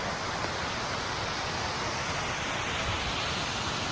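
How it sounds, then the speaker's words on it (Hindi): Malajkudum waterfall in Chhattisgarh roars as a dense, steady wash of falling water, loud and unbroken throughout. "और ये अपना मलाज कुडुम वाटरफॉल"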